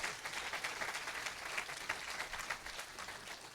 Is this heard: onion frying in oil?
no